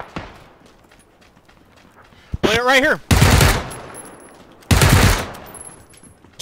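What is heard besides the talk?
gunfire in a video game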